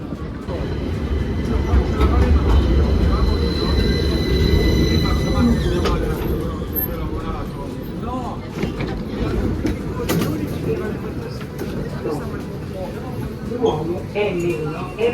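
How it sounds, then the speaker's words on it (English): A rumbling tram in Milan rolls steadily along its rails with low mechanical noise and occasional squeals, while a person talks over it. "this tram is creepy"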